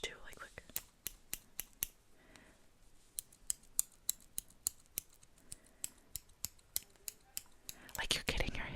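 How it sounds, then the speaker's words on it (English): Crisp scissor snips repeat in quick, uneven bursts close to the microphone, with soft whispering faintly underneath. "I feel like I like the sound of scissors too"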